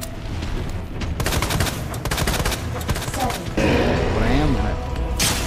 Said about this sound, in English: I'm trying to shoot at his exposed heart.